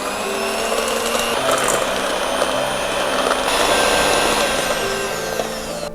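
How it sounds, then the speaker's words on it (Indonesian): An electric hand mixer whirs steadily on low speed, whisking a sugar mixture until foamy, a continuous close motor drone with a slight rise in pitch partway through and no talking. "ini kita mixer pakai kecepatan rendah aja, kita pakai kecepatan nomor 1"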